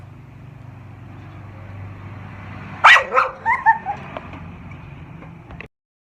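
A pet dog lets out a quick series of about four barks midway through, close and fairly loud, over a low steady hum before abrupt silence.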